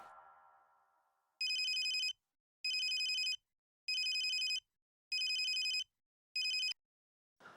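A telephone rings in five evenly spaced bursts, loud and close, the last one cut short, with a faint fading tone before the first ring and no voices.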